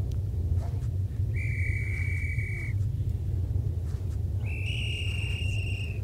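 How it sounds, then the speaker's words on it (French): Two long, steady whistled tones from characters in the horror game Call of Cthulhu: Dark Corners of the Earth, each lasting over a second, sounding over a heavy low ambient rumble. "y'a tout le monde qui siffle là"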